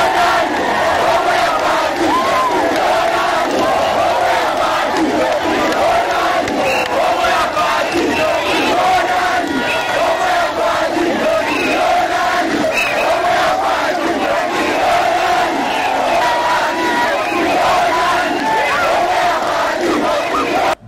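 A huge crowd roars and chants continuously at a Congolese presidential campaign rally, where candidate number 20 is met along the streets from the airport to the Onatra camp stage; the dense, loud cheering holds steady throughout with no pause.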